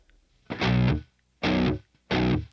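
Heavily distorted modern metal guitar through a Boss Katana Mk II amp with a light delay: three loud, close chord hits, each held briefly and cut off sharply, separated by short silences with little audible echo trailing behind.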